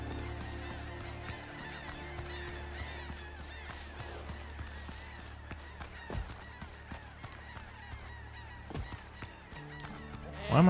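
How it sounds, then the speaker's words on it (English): Goose-like honking calls repeat steadily over ambient game sound in the pirate open-world game Skull and Bones, the birds moderately near and overlapping with no talking. "Why am I hearing all these birds?"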